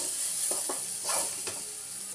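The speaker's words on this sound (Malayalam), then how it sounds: "ഒന്ന് ഇളക്കിയെടുക്കണം." Vegetables frying in a pan with chilli powder for bread masala, a steady sizzle and hiss with a few soft scrapes of stirring, close and fairly quiet.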